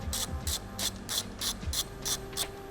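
A ratchet wrench with a 17mm socket backs off the shock nuts on a 1986-2019 Suzuki Savage LS650 motorcycle, a close, quick run of eight or so even clicking strokes with no talk.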